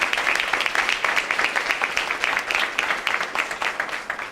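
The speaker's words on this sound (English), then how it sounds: "give a giant round of applause for Audrey" Audience applause at a university awards ceremony, a steady dense patter of many hands clapping continuously throughout at moderate loudness, with no talk over it.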